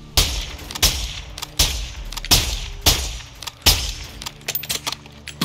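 Gunfire in the Call of Duty Modern Warfare 2 video game, a steady series of loud single shots about every half second to second, each with a short echoing tail, with no talking.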